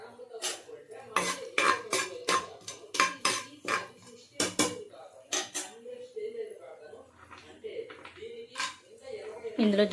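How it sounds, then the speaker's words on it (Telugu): Whole cloves and cinnamon sticks hit hot oil and melted butter in a pan for biryani, giving clattering metal-on-pan knocks and stirring scrapes in an irregular rhythm, close and fairly loud with a voice talking underneath. "హీట్ ఎక్కాక ఇందులో లవంగ దాల్చిన చెక్క బిర్యానీ సరుకులు వేసుకోవాలండి"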